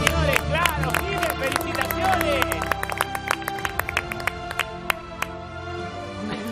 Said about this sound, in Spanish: Un aplauso para Jimena, señores